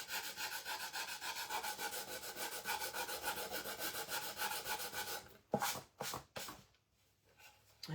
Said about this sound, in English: so I'm going to sand this a little bit more